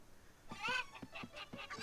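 Chickens clucking in the video game Ocarina of Time randomizer, a quick series of short, honking squawks, fairly faint, with no talk over them.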